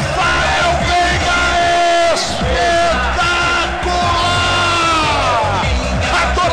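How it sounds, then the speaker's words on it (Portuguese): Palmeiras supporters roar and chant in a packed stadium in the United Arab Emirates during a Club World Cup match against Al Ahly, a loud, dense wall of yelling and whooping voices sustained throughout. "A torcida do Palmeiras solta a voz dos Emirados Árabes Unidos."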